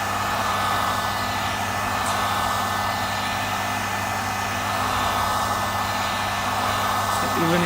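A heat gun blows steadily at close range, warming the broken LCD of a Samsung J1 phone to loosen it for removal, a constant hot-air whoosh with a low motor hum throughout, faint talk underneath.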